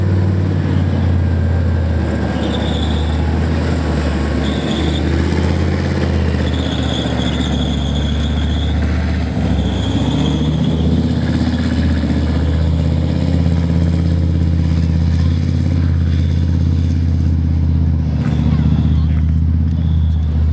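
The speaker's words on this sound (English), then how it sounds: "It's got a thumping great big, what's called an MTU diesel engine at the back." A Leopard tank's big MTU diesel engine runs steadily with a deep, loud low rumble and some revving throughout, under a talking man at an outdoor tank display.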